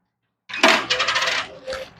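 After a moment of silence, an Rp1,000 coin drops into an IoT coin-operated charging station for electric bicycles, giving a sharp metallic clatter followed by a short second jingle, close and clear.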